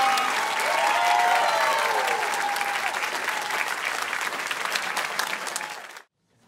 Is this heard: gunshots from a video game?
no